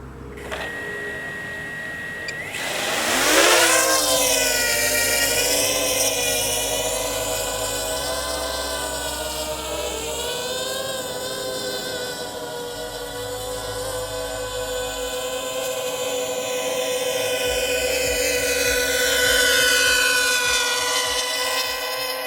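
A Mars Lander drone with folding props makes a high-speed pass: a loud, rising multi-rotor whine swells in near the start, then holds a steady buzzing drone that shifts pitch slightly as it flies, with no talk.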